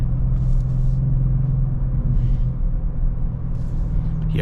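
A 600 HP wide-body Audi RS6 V8 twin-turbo wagon drives along with a loud, steady low engine rumble from inside the cabin, and faint brief hisses over it.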